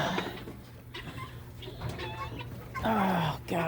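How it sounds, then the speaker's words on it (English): Backyard chickens settling to roost on a cold Christmas Eve give soft, scattered clucks and murmurs close by, ending in a louder rising squawk, with a faint low hum underneath. "The chickens are getting ready to roost."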